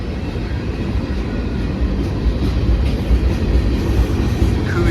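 Norfolk Southern freight train rumbling steadily past up close, hauling center beam cars among Missouri Pacific and Soo Line rolling stock, a continuous heavy low roar with faint wheel clatter.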